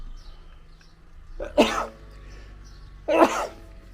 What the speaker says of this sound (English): I'm gonna sneeze right now.